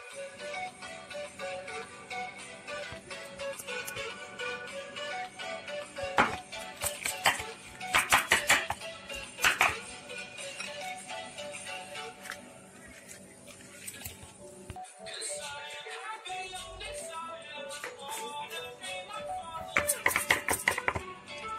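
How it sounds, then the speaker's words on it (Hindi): Cake batter tin for an eggless mango cake being tapped to release air, giving repeated sharp metallic knocks in irregular bursts, fairly close and clear, with no talking. "अब मैं इसे अच्छी तरह टैप कर रही हूँ जिससे हवा निकल जाए।"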